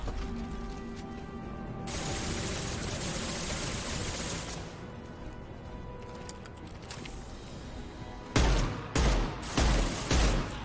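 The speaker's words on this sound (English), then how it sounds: "This might be a good time for the grenade launcher." Grenade launcher fire and combat on Omega in Mass Effect Legendary Edition, a steady mechanical din of gunfire building behind, then a series of loud, punchy booming shots close together near the end.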